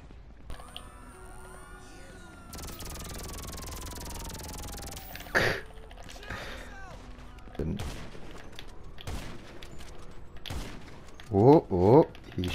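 Gunfire in GTA 5 during a chaotic fight, with scattered bursts of shots and impacts rising to a loud double burst near the end, mixed with game noise and a voice talking.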